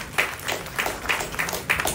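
Audience applause at a Sunday satsang gathering in Mogappair, a steady wash of many hands clapping with brief stronger bursts, moderately loud and continuing throughout without talk.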